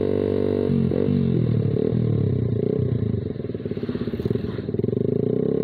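A Suzuki Satria FU motorcycle with an aftermarket exhaust runs close by, its engine rising and falling through quick revs with a choppy, pulsing exhaust note.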